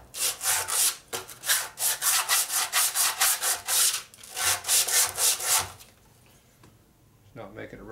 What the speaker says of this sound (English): the sandpaper's not exactly all that good either for doing this